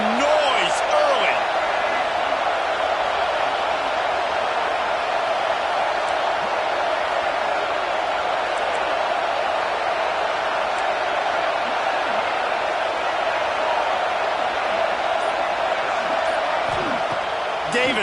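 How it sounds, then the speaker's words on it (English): A stadium crowd at a football game produces a dense, constant roar of cheering and noise that lasts the whole stretch, with a commentator talking over it. "This crowd bringing the energy and noise early."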